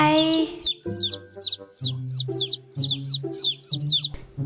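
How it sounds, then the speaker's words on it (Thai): Baby chicks cheeping in quick, repeated high peeps over a lower clucking hen, close and steady throughout. "เสียงที่เกิดจากธรรมชาติ เช่น เสียงลูกไก่"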